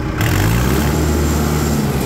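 An Arjun Ultra 605 tractor engine revs hard up to high RPM, a loud close steady roar with a rising tone throughout.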